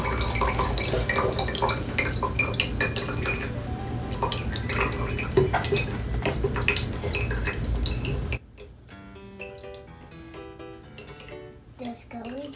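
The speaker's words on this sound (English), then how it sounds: "Now we're gonna put the water beads in." Water beads pour into a water-filled plastic calming bottle in a DIY kids' craft, a dense rattling, dripping clatter for about eight seconds, then quiet with sparse drips and faint tonal ringing.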